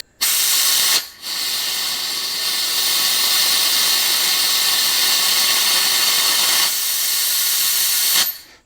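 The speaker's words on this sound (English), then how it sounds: "I'm also modulating how much air I put in because I have the compressor up pretty high" Compressed air from a shop compressor driving a pneumatic brake bleeder gives a loud, steady hiss. It starts abruptly, breaks briefly near the start, runs continuously, then stops sharply.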